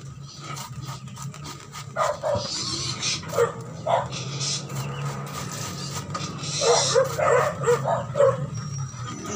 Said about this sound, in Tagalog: Pagkaingay ng mga aso.